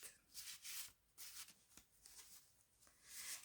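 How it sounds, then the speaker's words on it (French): A deck of cards is shuffled up close in several quick, soft riffling bursts with brief pauses between them, quiet and alone. "Et on bat les cartes."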